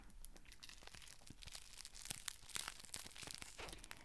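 The wrapper of Italian treats crinkles and tears as it is opened up close. The packaging gives dense, continuous crackling and crunching in quick irregular bursts, with no talk.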